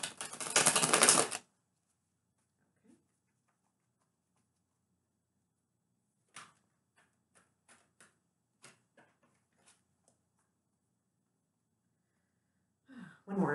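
Tarot cards being shuffled at a reading, a short burst of dense riffling at the start, then sparse faint card taps and clicks and another brief shuffle at the end.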